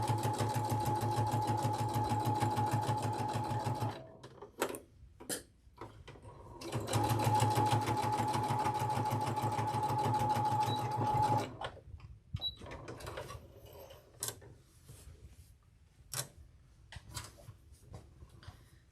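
A sewing machine stitches rows of T-shirt quilt pieces in two long, steady runs of rapid needle clatter, with pauses and light handling clicks between and after.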